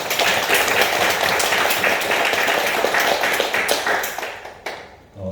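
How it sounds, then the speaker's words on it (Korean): A church congregation claps together during a sermon, producing dense, fairly loud applause that tapers off near the end. "박수로 하나님께 영광 돌리겠습니다"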